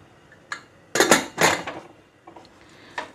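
A pressure cooker lid is set on and locked in a home kitchen, a few close metallic clanks and scrapes in quick succession, then faint light clinks, with no talk.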